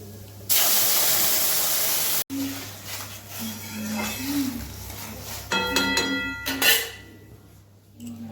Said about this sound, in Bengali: সেই মশলা জলটা এখন দিয়ে দেবো